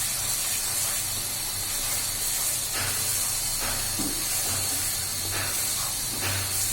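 Ground coriander and other spices sizzle as they fry in a pan for a prawn kofta curry, giving a steady close hiss with soft crackles and no voices.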